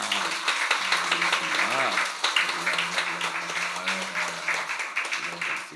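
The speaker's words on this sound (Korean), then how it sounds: "우리 축복의 박수 모두 함께 시작" A Sunday-service church congregation in Korea gives a steady round of applause as a blessing, the clapping sustained and dense throughout with voices mixed in over it.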